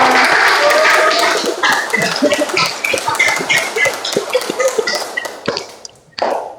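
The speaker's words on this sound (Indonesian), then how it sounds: "Tepuk tangan buat kalian semua." A high school class claps for each other in a classroom, starting as a dense burst of applause and then thinning into scattered, uneven hand claps and taps, with one sharp clap near the end and some voices mixed in.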